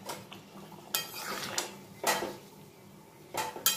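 A spoon stirring ghee and garam masala into a vegetarian aloo paneer dalna curry in a pan, with several distinct metallic scrapes and clinks against the pan at irregular intervals, close and moderately quiet, no talking.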